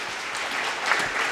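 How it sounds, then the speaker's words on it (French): An audience claps at a formal event, a dense, steady wash of applause at moderate distance, heard alone without talk. "Est-ce qu'on peut applaudir encore, s'il vous plaît"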